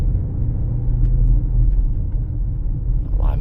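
Low, steady rumble of a 2023 Lamborghini Urus S cruising in standard mode, a continuous engine and road drone with no voices.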